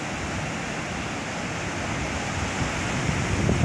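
Steady broadband sea surf washes along the shore at the Gadani ship breaking yard, a continuous rushing roar with no breaks, slightly swelling louder near the end, with no voices.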